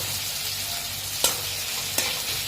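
Tomato and goat meat frying in a pan make a steady close sizzle, with two brief stirring scrapes breaking through partway.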